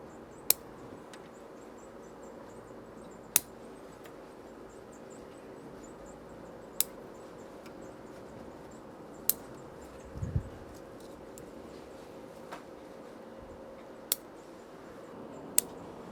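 Pruning shears cut Fuji cherry bonsai branches with sparse, sharp snips every few seconds, faint and close against a quiet background.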